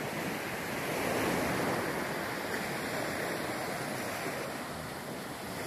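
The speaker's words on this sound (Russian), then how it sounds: "Ну вот такое оно, Карибское побережье." Surf on the Caribbean coast at Saona in the Dominican Republic, a steady broad wash of breaking waves close by, continuous and loud with some wind noise and no talk.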